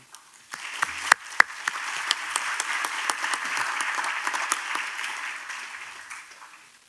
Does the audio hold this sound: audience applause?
yes